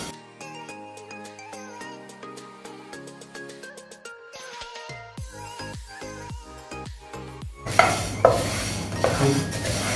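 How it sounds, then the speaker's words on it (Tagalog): Mung beans toasting dry in a pan are stirred, and a loud rattling, scraping clatter of beans against metal breaks in near the end after a stretch of plucked background music. "Ito-toast kasi natin itong munggo."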